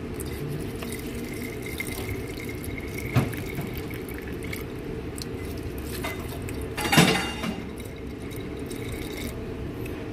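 Distilled water being poured into golf cart battery cells during routine maintenance, heard as a faint steady trickle with two brief louder splashes or clinks under a constant background hum; no talking.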